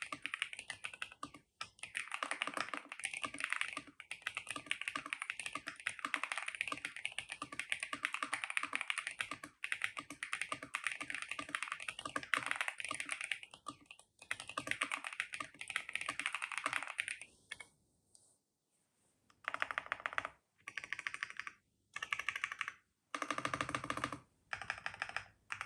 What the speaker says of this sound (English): Here's a quick sound test of the Shinming M75 Pro stock.